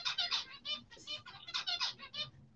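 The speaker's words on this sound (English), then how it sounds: "So when you hear a zebra finch sing, then you know it's the male because the girls don't sing." A male zebra finch sings a quick run of bright, chattering high notes in rapid bursts, fairly close and clear, with faint low background murmur beneath.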